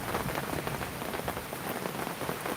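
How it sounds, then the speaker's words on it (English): Wind-driven side rain drums steadily on an umbrella, a dense, close, continuous patter of drops with no voices. "I just got the umbrella trying to catch the side rain."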